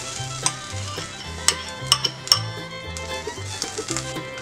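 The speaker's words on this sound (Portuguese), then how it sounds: "Então eu vou pegar uma panela e aquecer o leite condensado em fogo baixo." Condensed milk being heated and stirred in a pan over low heat, with spoon scrapes and light clinks against the pan over a soft, steady background.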